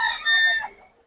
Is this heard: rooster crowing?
yes